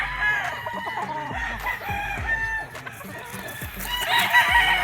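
Gamefowl roosters on a game farm crow and cluck repeatedly, several birds close by and fairly loud, with overlapping calls throughout.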